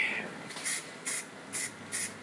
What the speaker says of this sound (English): just going crazy and spraying a little here and there